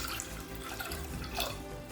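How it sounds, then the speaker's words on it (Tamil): Water runs steadily from a tap into a cooking pot, a continuous splashing stream at close range with no talking. "தேவையான அளவு தண்ணி சேர்த்துக்கலாங்க."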